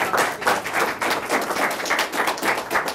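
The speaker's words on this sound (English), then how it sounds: "Let's give a big round of applause." Audience applause closing a public relations talk, an even, moderate burst of many hands clapping with a slightly pulsing rhythm for about three seconds.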